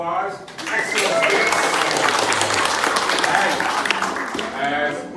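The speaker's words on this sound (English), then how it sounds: "Okay, a nice round of applause." Audience applause at a Junior Ranger program in Rocky Mountain National Park, a steady dense round of clapping from a crowd that swells and holds for several seconds, with a brief spoken word at the start.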